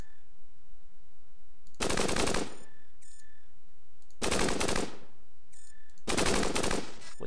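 Laser weapon fire in the ASCII robot game Cogmind, three separate loud bursts of rapid crackling shots, each lasting under a second with short trailing bleeps between them.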